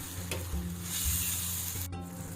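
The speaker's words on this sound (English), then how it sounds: "I'm going to slowly boil the sauce" Tomato sauce with meat simmers over a very low fire in a pot, giving a soft continuous sizzling hiss with a brief clink near the end.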